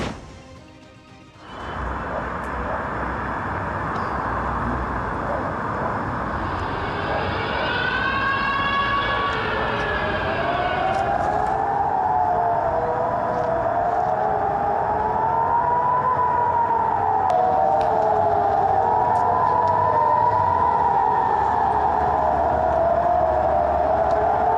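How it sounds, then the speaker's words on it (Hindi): Air raid sirens wail during Iranian missile strikes on Israeli cities, several rising and falling tones overlapping and drifting over a loud, constant rumbling background that swells steadily, with no voices. "ये एयर स्ट्राइक और उस पर बजते हुए सायरन"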